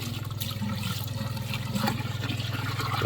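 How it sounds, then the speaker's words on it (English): Pond water pumped into a tilapia pond filter gushes and churns steadily over a low, rhythmic pump throb, close by and continuous throughout. "this is just straight pond water that I'm pumping in here right now"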